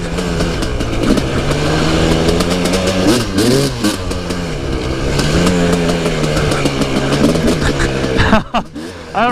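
A KTM 300 two-stroke dirt bike engine rides through woods, its buzzy, continuous drone rising and falling with throttle changes throughout, loud and close, with a brief dip near the end.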